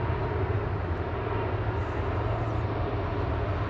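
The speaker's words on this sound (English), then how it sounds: "Lufty departed in the background, heading off to Munich with flight 2507." A Lufthansa jet departs Manchester Airport bound for Munich, its engines a loud, steady broadband roar that fills the entire stretch without letup.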